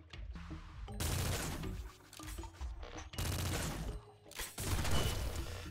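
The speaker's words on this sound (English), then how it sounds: "Quadruple shotgun, baby." A quadruple shotgun fires in the Nuclear Throne Ultra Mod video game. It sounds as four loud, booming volleys of overlapping blasts, each lasting about a second, separated by short gaps.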